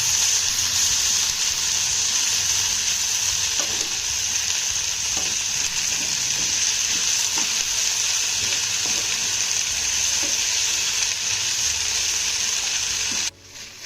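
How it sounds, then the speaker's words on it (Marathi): Cooked wheat-dough balls sauté with vegetables in a pan, giving a loud, constant sizzle with faint intermittent stirring taps throughout, no talking, cut off abruptly at the end. "आता हे गोळे देखील आपल्याला दोन मिनिटं यामध्ये छान असे परतून घ्यायचे आहेत"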